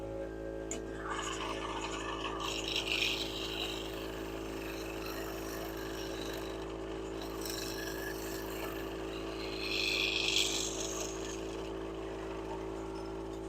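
A woodturning scraper tilted on edge shears wood on a spinning lathe, a steady whirring hum with scraping bursts swelling around a few seconds in and again near the ten-second mark.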